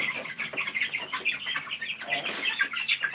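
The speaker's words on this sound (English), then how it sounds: "Remember the baby chicks that hatched?" Baby chicks in a brooder cheep continuously in a dense, overlapping chorus of high, rapid peeps, close by and fairly soft.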